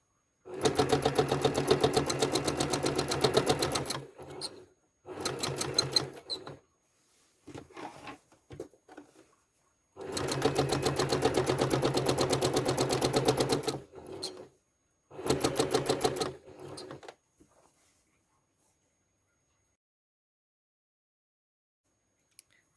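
A sewing machine quilting wavy serpentine stitch lines, running in several rapid, even bursts of stitching separated by short pauses, with softer fabric handling between runs before falling silent.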